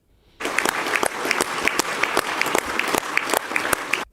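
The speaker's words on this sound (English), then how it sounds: "that is Russian parliament clapping, applauding after they officially ratify" Russian parliament members applaud after a ratification vote, a dense burst of clapping that starts abruptly and carries on steadily with sharp individual claps standing out, loud and close, no talk.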